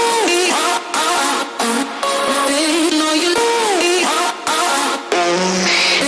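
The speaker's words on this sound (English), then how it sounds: "the lead itself, which is a vocal chop of the acapella" Future bass lead built from a chopped vocal sample of an acapella, bright pitched vocal stabs gliding between notes with short gaps, loud and upfront.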